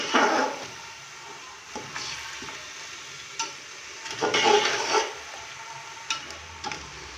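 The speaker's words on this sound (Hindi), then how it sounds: "हाई फ्लेम पे चिकन को तकरीबन 4 से 5 मिनट अच्छे से भून लेंगे" Chicken fries on high flame in a pot, giving a continuous close sizzle broken by repeated stirring scrapes and clatters in an uneven rhythm.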